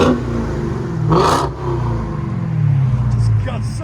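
A Dodge Challenger SRT Hellcat 6.2L V8 rumbles deep and close with aftermarket exhaust, swelling in a short rev before settling back to a low burble, with voices talking over it.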